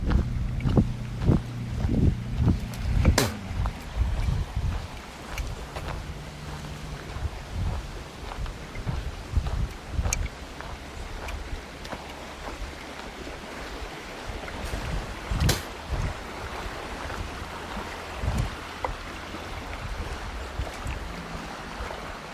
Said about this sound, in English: And you can hear the water there in the background.